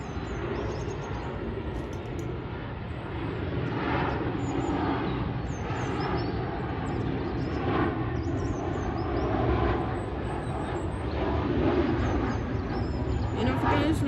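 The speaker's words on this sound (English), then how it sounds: "coming in is the KLM City Hopper Embraer from Amsterdam, landing here at Cardiff" A KLM Cityhopper Embraer airliner arriving from Amsterdam lands at Cardiff airport, a steady broad jet roar heard from a distance across open ground, swelling slightly, with faint birds and people talking nearby.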